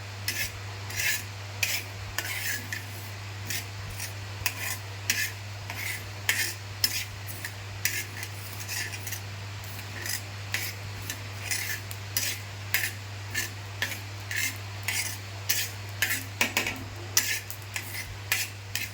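Mustard seeds spluttering and crackling as they fry in hot oil, a dense run of sharp pops and crackles over a steady low hum, with no talking.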